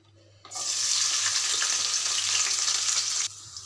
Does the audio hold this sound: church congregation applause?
no